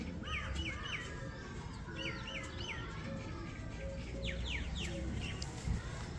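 Birds calling in a pigeon keeper's loft, with repeated chirping and warbling calls at moderate distance over a steady background hum and low murmuring.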